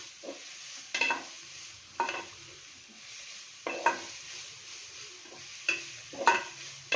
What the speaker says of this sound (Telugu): చూడండి మిక్స్ చేసేస్తాను, కుక్ అయిపోతుంది.